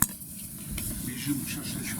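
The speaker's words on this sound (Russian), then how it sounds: "Чувствую, шашлык жарится" Beef liver shashlik sizzles on a charcoal grill, a close, steady crackling hiss lasting a couple of seconds with a faint clink of metal.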